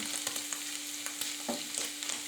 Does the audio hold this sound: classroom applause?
no